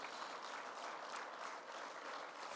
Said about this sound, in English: Let us all be upstanding and give him a round of applause as he joins us today